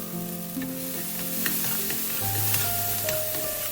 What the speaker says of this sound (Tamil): சேர்த்துட்டு பட்டை வாசனை போகிற அளவுக்கு வதக்கி விட்டுக்கோங்க.